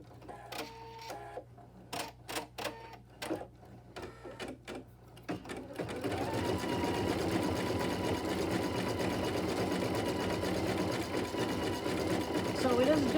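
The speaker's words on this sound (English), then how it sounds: "So it is doing the decorative stitch right here on the edge of the block." Embroidery sewing machine working a decorative edge stitch on a gnome table topper block, first in short separate bursts of whirring and clicking, then in one loud, steady mechanical hum with rapid needle ticks, while a person talks.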